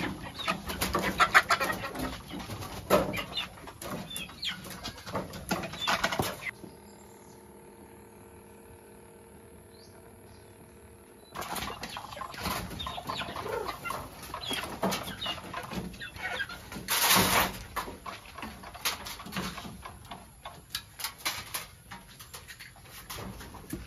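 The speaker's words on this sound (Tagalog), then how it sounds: "may alaga na rin po tayong manok na ating pinararami" Chickens clucking and murmuring nearby on a small farm amid rustling outdoor noise, interrupted by a quieter stretch of steady mechanical hum before the clucking resumes.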